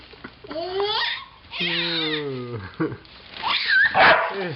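A dog barking and yipping in a home kitchen during baking, with a few loud, excited vocal bursts close to the microphone, some of them whiny, mixed with human chatter.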